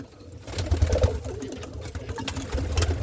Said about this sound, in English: We're feeding in the dark.